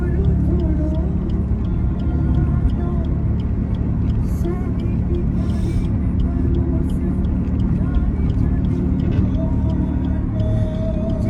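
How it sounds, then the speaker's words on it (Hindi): A car speeding along a fog-covered road gives a steady, loud low rumble of engine and road noise that runs throughout, with voices talking over it. "देखिए कितनी तेज भाग रही गाड़ी"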